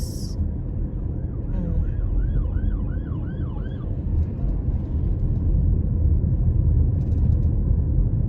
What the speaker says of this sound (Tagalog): basta magwangwang na yung mga siren nila